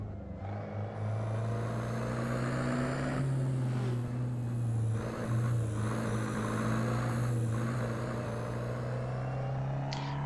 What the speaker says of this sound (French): La petite finesse du claquement du diesel et le petit turbo là qu'on entend.